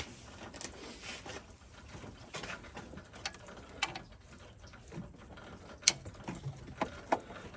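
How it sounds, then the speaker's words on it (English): A torque bar ratcheting a bolt loose on the water pump of a 3.2 VR6 engine, with scattered sharp mechanical clicks and a few louder ratchet snaps over quiet background noise. "So let's get the torque bar."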